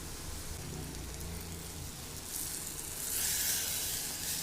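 Carrots and masala paste frying in a spoonful of oil for carrot rasam, a continuous close sizzle that grows brighter and louder toward the end.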